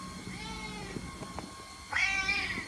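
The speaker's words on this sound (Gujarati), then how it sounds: "આ મારી કેટ છે. હાઈ કર. એને બહુ ભૂખ લાગી છે અત્યારે." A hungry pet cat meows once, a drawn-out, fairly loud cry near the end, over faint indoor background noise.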